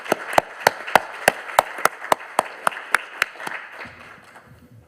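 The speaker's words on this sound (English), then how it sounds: "please join me with giving a round of warm applause to our distinguished panelists" Applause from a modest conference audience for a panel, with sharp, evenly spaced claps standing out over softer clapping before it dies away and a voice begins.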